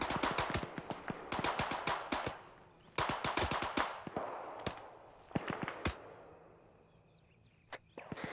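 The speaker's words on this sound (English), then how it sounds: "That's a machine gunner." Machine gun fire in the video game ArmA 3: several rapid bursts of sharp shots, loud and close, separated by short pauses, with a lone shot or two trailing off at the end.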